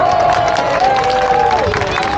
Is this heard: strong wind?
no